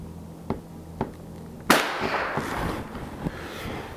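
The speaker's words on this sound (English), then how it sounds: "we'll go ahead and rack one in there. And we're going to give it a try." A used 1930s Mossberg Model 40 .22 bolt-action rifle fires outdoors with one sharp, loud crack that rings out briefly, preceded by a couple of faint clicks of the bolt being worked and followed by wind and handling noise.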